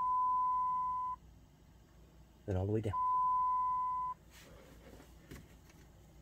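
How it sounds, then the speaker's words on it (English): Two long steady electronic beeps at one pitch from a truck's blend door system, separated by a short stretch of talking, with faint background noise after the second tone. "Should go beep, beep,"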